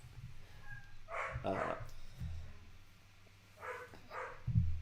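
A dog barks and whimpers indoors in a few short, soft bursts, fairly close but quiet against a low background hum.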